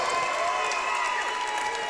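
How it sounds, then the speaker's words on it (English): A packed crowd applauds the fighters after a main-event bout at an RFO Big Guns 23 MMA show, a dense, loud, continuous roar of clapping that holds steady throughout. "a big round of applause for both of these main event"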